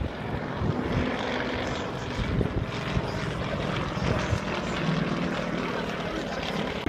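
Display aircraft at the Farnborough International Air Show 2014 performing a negative flick roll, a loud, continuous engine roar filling the whole stretch with a public-address commentator talking over it.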